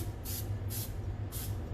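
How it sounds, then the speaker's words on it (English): Non-stick pan spray shot from an aerosol can into a regular loaf pan: three short, sharp hissing bursts, the last a little longer, over a steady low hum. "this is just a regular loaf pan, regular pan spray, okay? Just going to give it some"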